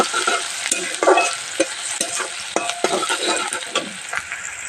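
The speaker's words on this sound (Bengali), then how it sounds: "একটু লাল লাল করে ভেজে নেব।" Chopped onions frying in hot oil for a one-pot parboiled-rice biryani, a steady close sizzle with scattered utensil scrapes and stirring clatter throughout, no talking.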